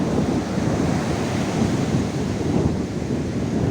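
Sea waves breaking on the shore at Puri beach, Odisha, a steady, loud, continuous roar of surf mixed with wind noise throughout, with no voices.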